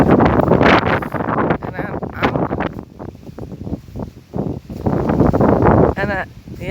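Strong gusting wind in a rainstorm buffets the microphone in loud, uneven roaring bursts that swell and drop, with a person talking over it.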